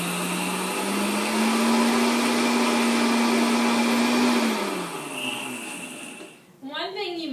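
A Vitamix blender grinds oats into flour with a loud, steady high-pitched whir that rises slightly, then winds down and cuts out, followed by a brief stretch of talking.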